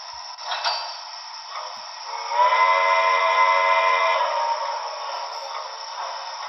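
A Broadway Limited Paragon 3 model C&O L-1 Hudson locomotive sounds a steady, multi-tone steam whistle continuously for several seconds, swelling louder midway, with a thin, reedy electronic quality.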